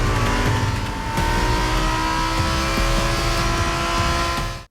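Race cars accelerate hard down a straight in a film drag race, a loud continuous engine roar with rising harmonic whine and rumble that holds for several seconds before cutting off abruptly at the end.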